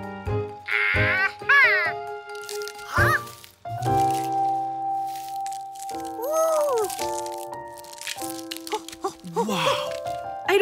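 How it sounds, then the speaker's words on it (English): Ducklings hatching from duck eggs in a cartoon, with cracking shell sounds, squeaky quacks and cartoon character voices talking and exclaiming over bright musical tones throughout. "A duck is hatching right before my very eyes."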